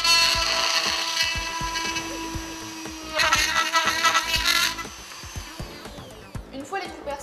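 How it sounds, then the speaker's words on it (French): Power drill boring holes in plastic moulds, a close whining drill run that starts, stops and starts again in two bursts, with clicking mechanical noise underneath and a short tail at the end. "Vous allez donc percer à 6 endroits, ici, là"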